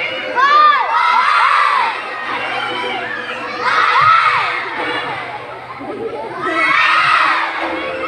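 A crowd of children shouts together in loud bursts, three big group yells at regular intervals with excited cheering between them, during an Islamic storytelling session for kids welcoming Ramadan.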